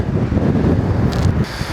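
Strong wind by the ocean on a foggy cliff edge, a steady low roaring rush buffeting the microphone throughout, with no voices.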